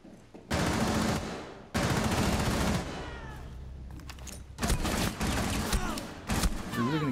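Automatic gunfire in the tactical shooter Rainbow Six Siege comes as loud, sustained bursts of rapid shots separated by short pauses, with a few quieter stretches between volleys.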